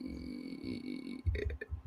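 A loud, low burp erupts near the end on a live gaming stream, a short rumbling belch with a few gurgling bursts, close to the mic after a steady background hum.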